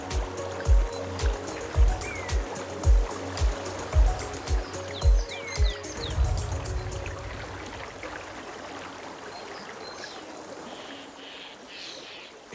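Mountain stream flowing beside damp banks, a continuous rushing trickle of water, with a series of regular low thumps during the first six seconds before the flow continues alone.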